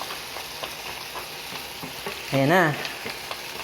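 Mussels sautéing in a pan with aromatics, a soft steady sizzle under light stirring, briefly overlapped by a short spoken remark near the end.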